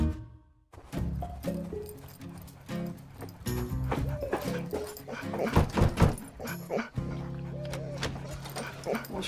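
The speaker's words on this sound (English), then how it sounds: "Your dog got into our house." A dog that has got into a family's house makes barks and whimpers indoors, heard amid music with brief voices now and then.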